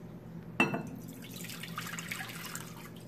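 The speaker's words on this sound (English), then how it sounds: "I'm going to be pouring the water into the bowl" Water poured into a bowl for homemade glow-in-the-dark slime begins with a sharp splash, then trails off into a soft, continuing trickle at close range, with no talking.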